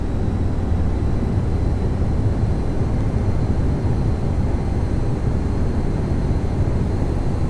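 Steady aircraft engine drone from Flight Simulator X, a dense, unbroken roar with a faint high whine running through it, loud and even for the whole stretch with no talking.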